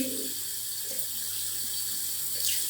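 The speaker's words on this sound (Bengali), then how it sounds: "এখন আমি ধুয়ে ফেলবো।" Running tap water splashing steadily into a sink while a face is washed, a continuous close wash with small splashes and no talking.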